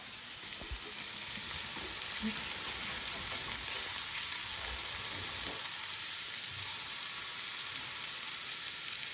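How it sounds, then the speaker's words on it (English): A pan sizzles and crackles steadily as an omelette fries, a continuous bright hiss close up with a few faint knocks. "we've got a nice sizzle here now"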